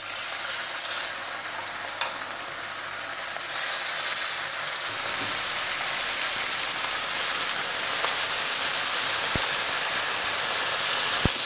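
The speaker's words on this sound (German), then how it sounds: "Dann kommen die Steaks auch direkt in die Pfanne." Steaks sear in a hot frying pan with a steady, loud broadband sizzle and hiss that swells slightly after a few seconds and continues throughout, with no talking.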